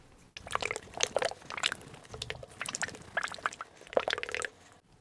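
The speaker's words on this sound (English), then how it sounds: "the next step is to pour a little paint into my tray" Annie Sloan chalk paint in the colour Old White is poured into a paint tray, giving a thick, glugging liquid stream with wet splats and drips, close and moderately quiet, without speech.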